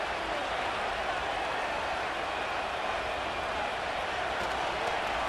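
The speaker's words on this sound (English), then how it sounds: "The longer the drive goes, the quieter the crowd gets." Stadium crowd noise from the video game Madden NFL 25, a dense, steady roar of distant cheering and murmur with faint applause, continuous and even throughout.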